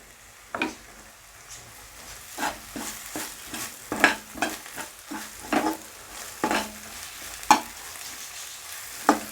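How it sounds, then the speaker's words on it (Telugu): Ginger garlic paste fries in a pan with a steady sizzle, broken by about a dozen sharp scraping strokes of a spoon stirring it, close and moderately loud, with no talking. "ఈ అల్లం పేస్ట్ పచ్చి స్మెల్ పోయేదాకా వేయించుకుందాం"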